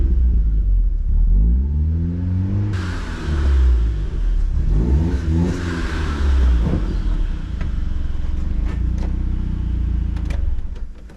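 A Mazda Miata engine revs repeatedly, pitch climbing and falling in several surges, loud and close, with a low rumble between revs.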